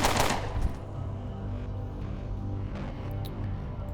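Gunfire in Underrail opens with a sharp, loud burst, then trails into a rumbling, sustained rattle that stays fairly steady to the end.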